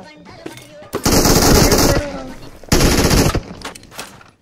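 Automatic gunfire in a video game, two loud, close bursts of rapid shots, each lasting about a second, with faint voices and game sounds between them.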